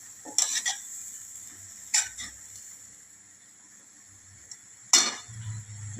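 Amaranth greens being stirred with spice mix, onion and oil in a pan, a few close scraping and clinking strokes of the spoon against metal over a faint background, with short pauses between stirs.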